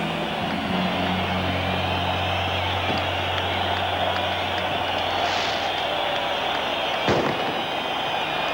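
Fireworks and explosions at a midnight celebration form a dense, continuous roar of crackle and rumble, with a sharper single bang standing out near the end.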